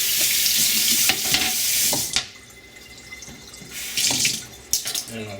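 Tap water runs steadily into a kitchen sink while food is rinsed under it, with brief clatters and splashes. The flow is cut off midway and then turned back on.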